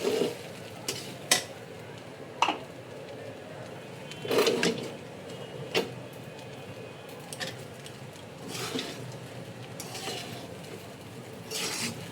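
Salted pulao being stirred in a pot on the stove: irregular scraping and knocking of a spoon against metal, close and sharp, over a faint background hiss, with brief quiet gaps between strokes.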